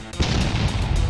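Rapid, fast-firing explosions in the video game R-ACK, a dense run of punchy booms and bursts packed closely together over about a second, loud and up front.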